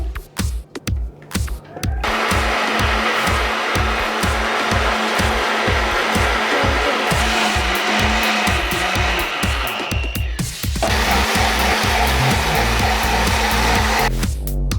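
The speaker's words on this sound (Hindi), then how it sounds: "अब हम इसे ब्लेंड करेंगे।" An electric blender whirs loudly and steadily as it mixes milk, sugar powder, vanilla ice cream and chocolate syrup for a milkshake, with a rough motor drone that shifts pitch midway and continues to the end.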